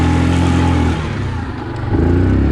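A 2020 Yamaha Kodiak 450 EPS ATV engine drones loudly while climbing in high gear, its steady tone sagging midway before pulling back up to full strength.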